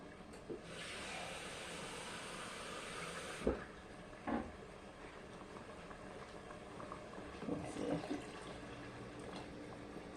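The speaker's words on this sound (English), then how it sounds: "Now I'm going to add some water." Water pours steadily into a pot of Coney dog sauce for a few seconds with a rushing hiss, followed by a few light clunks and kitchen clatter.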